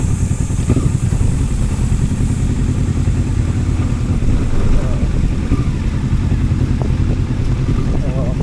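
A BMW motorcycle engine labours up a steep trail, a loud, rough, continuous drone with clattering pulses and no letup.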